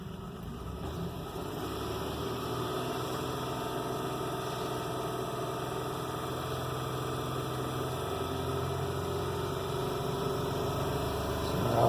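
A 2005 Honda Odyssey engine idles after a timing belt replacement, giving a steady, even hum with a low rumble that holds constant throughout, close and uninterrupted, with no talking.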